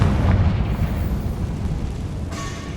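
A Confringo fire spell explodes in Hogwarts Legacy, a loud, rumbling blast with a booming low end that rolls on steadily through the whole moment, with a brighter burst near the end.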